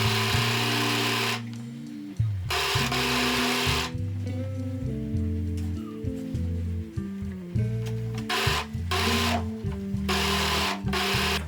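A sewing machine finishes dress seams with an overlock stitch, running in bursts of fast whirring with pitch shifts and brief pauses, loud and close, no talking.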